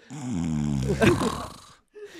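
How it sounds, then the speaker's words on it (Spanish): A person gives one loud, close, throaty snore with a rattling, snorting sound, then a short pause and a brief further sound. "roncaste muy duro de la nada"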